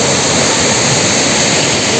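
At a rocky Karbi Anglong picnic spot in Assam, water rushes over big rocks in a loud, unbroken roar that fills the whole moment without any voices.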